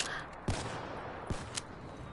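Black Ops 3 gunfire in a game, a couple of sharp, distinct shots spaced apart over a low, busy background, fairly faint.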